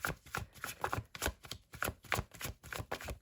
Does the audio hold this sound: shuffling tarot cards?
yes